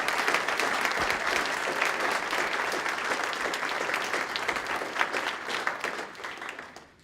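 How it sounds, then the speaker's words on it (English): A university audience gives a round of applause to ten graduate research thesis finalists: full, even clapping from many hands, lasting about seven seconds before tapering off at the end. "please give one more round of applause to all 10 of our fantastic finalists"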